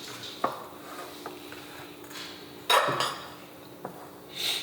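Utensil scraping and clinking against a dish while food is mixed in a home kitchen, a few sharp knocks and a longer rattling stir, faint and close, with no voices.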